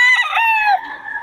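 Rooster crows once, loud and close, from a farm or market setting, a single drawn-out call that fades toward the end.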